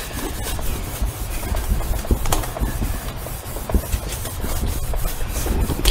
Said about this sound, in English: With the cleaner wax, you kind of want to rub it in.